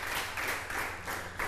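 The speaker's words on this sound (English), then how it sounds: "Clap for him, please." A studio audience claps for a presenter on an African reality TV reading show, a brief burst of steady, dense clapping from many hands, fairly loud and without talking over it.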